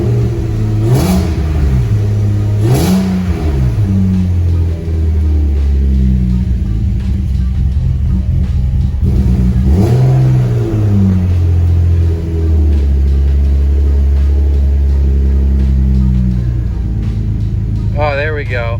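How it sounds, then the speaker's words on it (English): A BMW E36 M3 drift build starting up after winter storage, its engine revving in a few quick blips before settling into a high, rough, rumbling idle, loud and close, with a person talking over it. "It's alive! Bit of a high idle, to be expected."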